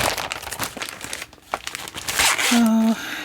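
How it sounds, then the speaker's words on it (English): Crinkling and crumpling of a reusable zipper bag used as embroidery floss kit packaging, handled close up in short rustling bursts with a brief tonal squeak near the end. "it comes in this beautiful reusable bag with a zipper thing up here."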